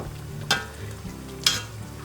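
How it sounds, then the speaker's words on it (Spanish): Tomato sauce simmering in a pan sizzles softly and steadily, broken by two sharp scraping knocks as a masher presses into it, heard close by with no talking. "con un machacador, deshacer un poco el tomate"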